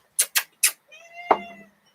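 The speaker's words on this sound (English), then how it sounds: "That cat's making noises." A cat meows at close range, a drawn-out tonal cry following three sharp, short noises, fairly loud and alone with no talking.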